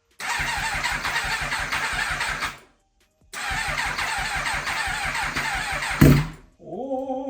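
Starter cranking on a 2022 MV Agusta Brutale 1000 RR motorcycle: two long, steady, rapid churning bursts with a pause between them, close and loud, then a brief cough as the engine nearly catches before fading.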